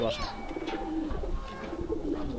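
Soft, low pigeon coos repeat near at hand over a hushed background murmur, gentle and rolling.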